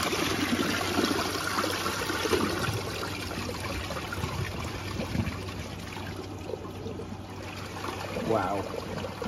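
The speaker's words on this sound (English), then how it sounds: "flush this one, so let's give it a flush." An American Standard Champion 4 toilet is flushed, with a close, gurgling rush and trickle of water running throughout, interrupted by brief bursts of voice.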